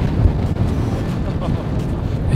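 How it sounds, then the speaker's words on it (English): Strong wind buffets the microphone on a steep mountainside near Smithers, British Columbia, a steady loud roar with gusty low rumbling throughout. "It was incredibly windy."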